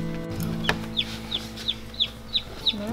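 Newly hatched chicks chirp in a farm incubator, a steady series of short, high, evenly spaced peeps over a constant hum.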